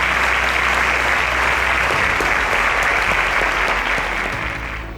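A studio audience on a quiz show applauds a contestant with dense, steady clapping that holds loud for several seconds and fades slightly at the end.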